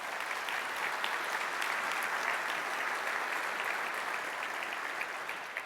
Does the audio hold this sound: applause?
yes